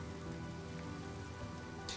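Soft, steady rain pattering on surfaces in a video game cutscene, a continuous faint wash with scattered drops throughout.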